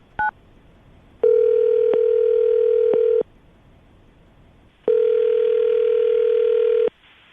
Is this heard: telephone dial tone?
yes